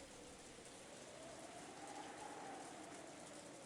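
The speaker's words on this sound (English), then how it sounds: "you couldn't ignore the sound of the rain sneaking into the dining hall" Steady rain falling around a mansion's dining hall in the Umineko visual novel, a continuous wash of drops that stays even and unbroken, with no voices over it.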